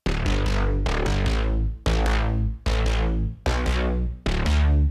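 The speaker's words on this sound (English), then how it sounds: "This bass is actually a wavetable I recorded from my Voyatra 8" Wavetable bass from a Voyatra 8 synth, playing six loud, sustained, harmonically rich notes in an uneven rhythm, each with a bright attack that darkens as it decays, alone with no voices.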